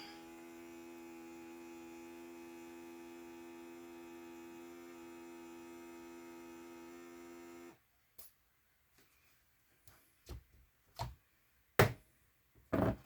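A vacuum sealer pumps air out of a jar of dry goods, making a steady electric hum with a rising pitch that runs for several seconds and then cuts off abruptly, followed by a few faint clicks and knocks.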